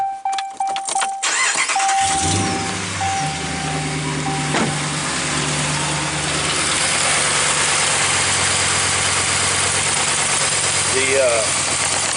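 A 2015 RAM 1500 pickup truck engine cranks, catches and settles into a steady idle, heard up close with someone talking over it.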